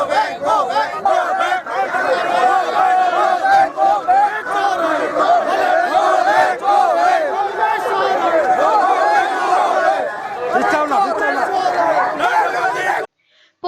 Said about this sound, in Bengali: Narendra Modi go back slogan দিলেন